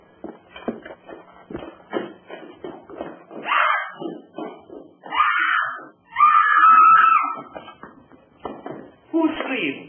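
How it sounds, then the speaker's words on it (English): A woman's high scream rings out inside a house in a 1933 horror film, amid shuffling, footsteps and tense talk from several people. "Who screamed?"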